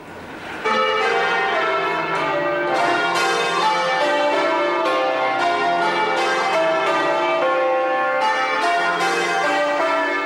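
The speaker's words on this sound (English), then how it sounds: "Today, the bells are rung every week by a group of bell ringers who work in the city" Church bells of Bow Bells in London peal loudly and nearby in a continuous change-ringing sequence, overlapping strikes ringing out one after another with rich sustained tones and no talk.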